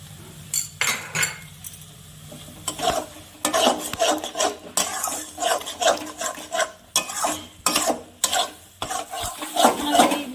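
Spinach being sautéed with spices and salt for a spinach and prawn dish, with repeated clinks and scrapes of a metal spatula against the pan over a soft sizzle, loud close stirring bursts, no speech.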